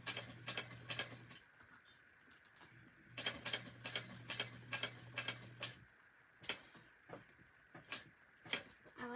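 A sewing machine back-stitches at top stitch length around a thick fabric corner. It gives a quiet motor hum in two short runs, broken by sharp ticking clicks and pauses.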